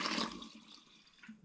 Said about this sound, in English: Just going to add a bit more spring water and then add that as well.